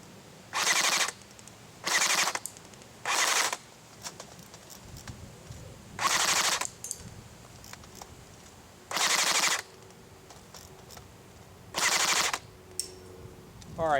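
A JG G3 SAS airsoft gun fires full-auto bursts, six rapid buzzing strings of shots each lasting about a second, separated by pauses with faint outdoor background and birds.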